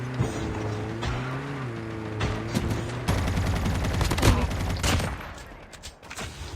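Rapid automatic gunfire in the mobile shooter Call of Duty Mobile crackles in dense bursts over engine-like drones and game effects, loud and sustained, with faint voices in the background.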